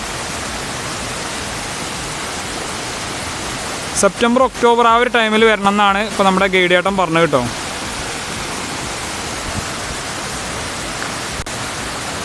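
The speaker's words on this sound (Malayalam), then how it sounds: "ഒരു കാടിന് നടുവിലായിട്ട് ഒരു കിടിലം വെള്ളച്ചാട്ടം" Forest waterfall at Dhoni Falls in Palakkad, running low on water, gives a steady broadband rush throughout, with someone talking over it in the middle.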